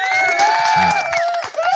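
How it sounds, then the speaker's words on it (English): A podcast studio audience breaks into loud, sustained cheering and whoops with applause underneath, a dense crowd roar filling the whole moment with no clear speech. "let me give your mom a round of applause"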